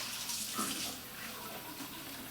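Cold tap water runs steadily into a sink as potatoes are rinsed and shaken loose of dirt, a close, even splashing wash with a slight surge early on.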